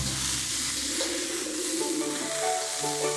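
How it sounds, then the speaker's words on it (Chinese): Sliced clam meat stir-fried over high heat with ginger, garlic and celery gives a loud, continuous sizzle from the wok with faint stirring scrapes throughout. "肥厚的蛤肉切片，爆香姜蒜、山芹菜，然后急火快炒就成了"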